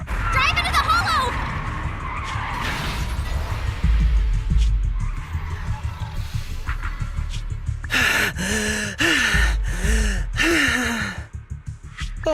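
A truck in Zenless Zone Zero skids with a long, loud tire screech, layered with gasps and bursts of game sound effects, the squeal sweeping and rising through the scene.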